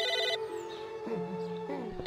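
A telephone rings in the video game Psychonauts, a loud electronic ringtone with repeating warbling pitch patterns, continuous and close, with no talking over it.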